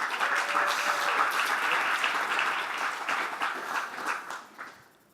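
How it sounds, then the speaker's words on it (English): Audience applauding as a panel is welcomed onto a stage at an affiliate marketing event, steady dense clapping for about four seconds before thinning and fading out. "A round of applause, please."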